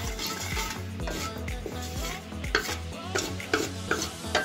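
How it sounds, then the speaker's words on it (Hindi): Whole black pepper and cumin frying in hot oil for a tadka for egg curry, a steady sizzle under repeated stirring and scraping of a spoon in the pan, with a few sharper clinks near the end. "मैं इसमें ऐड करूंगा काली मिर्च और ज़ीरा। खड़ा मसाला हम अच्छे से भून लेंगे।"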